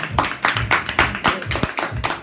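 An audience claps steadily and rhythmically for God at a French-speaking church gathering, close and loud with rapid even beats and no spoken words.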